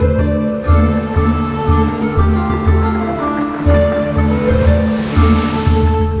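Ocean waves wash steadily onto Manapad Beach in Tamil Nadu, a continuous rushing surf with a low rhythmic thumping underneath, fairly loud and close.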